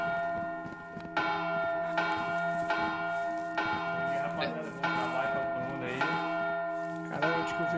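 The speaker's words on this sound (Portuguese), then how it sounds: "alguém tocou o sino aleatoriamente" A church bell in the village game Eville rings in repeated heavy strikes, each resonant tone ringing on into the next, loud and close with no voices over it.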